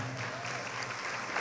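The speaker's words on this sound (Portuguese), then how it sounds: "toda a igreja tome seu assento aplaudindo a Jesus" A church congregation applauds in a steady, dense wash of clapping, moderately loud and continuous through the brief moment.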